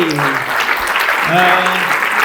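A crowd at a PAX Unplugged 2024 panel claps steadily throughout, with voices talking underneath the applause.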